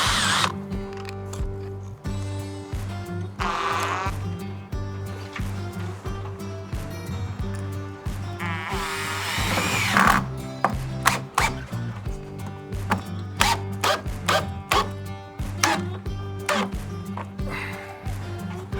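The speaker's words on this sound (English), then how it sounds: "This is a silicone bronze screw. And I need this massive bit to be able to drive it." Power drill fitted with a massive bit driving a silicone bronze screw into timber on the transom of a 1949 heritage yacht, bursts of whining motor alternating with clicks and knocks, close up and loud.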